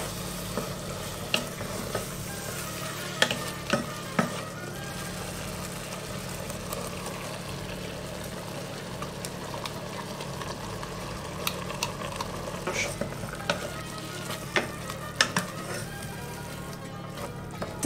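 A meat and onion mixture sizzles softly and steadily in a pan, with repeated spoon clicks and scrapes from stirring scattered throughout, and no voices over it.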